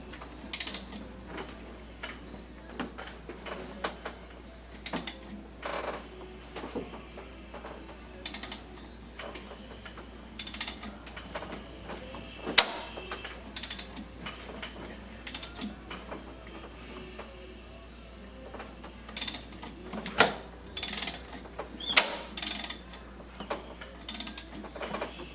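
Ratchet with a 27mm socket turning the crank of a BMW 540 engine, quiet clicking in irregular bursts of pawl ticks and small mechanical clunks, close by over a low steady hum.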